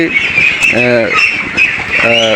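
Ducks quack nearby in two short, nasal bursts, with background chatter and shuffling around them.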